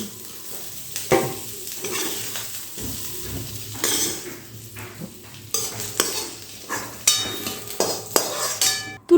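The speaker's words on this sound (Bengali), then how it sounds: "এখন আমি এর মধ্যে কয়টা সিম দিয়ে ভেজে নেব আলুর সঙ্গে" Potatoes and broad beans fry in hot oil in a kadai, a steady close sizzle broken by repeated spatula scrapes and metallic clinks as the pieces are stirred.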